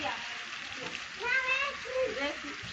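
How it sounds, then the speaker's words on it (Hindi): Cubes of paneer sizzle steadily in hot oil in a home kitchen, a bright, even hiss that swells briefly as pieces settle, with a voice speaking over it. "अब हम अपनी पनीर तलेंगे तेल में।"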